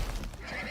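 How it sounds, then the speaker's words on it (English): A horse in the survival video game Icarus gives a brief neigh, short and fairly loud against steady game background noise. "There's a horse that's going to start attacking us."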